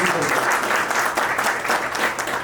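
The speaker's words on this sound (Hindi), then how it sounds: "एक बार जोरदार तालियां हो जाए।" Audience applause at a company event, a dense burst of clapping from a crowd that fills the whole stretch at steady strength.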